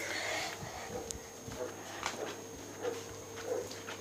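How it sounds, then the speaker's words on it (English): A puppy indoors makes faint, intermittent whimpers and short yips, quiet and close, with some background voices and handling noise. "So we had a dog, or no, a puppy."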